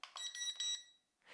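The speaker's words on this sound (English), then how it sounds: "and 3 beeps for the third and fastest speed mode." A drone controller gives three quick electronic beeps in succession, close and clear, signalling the fastest speed mode.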